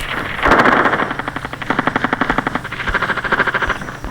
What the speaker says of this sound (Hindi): फायरिंग का साउंड कैसे आ रहा है?